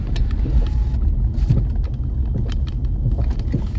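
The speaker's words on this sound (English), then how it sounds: "that car is smashing through the dirt road" A car crawling slowly down a rough, bumpy dirt road in Mexico, with a steady low rumble and repeated jolts and knocks as the tires hit ruts, heard from inside the vehicle.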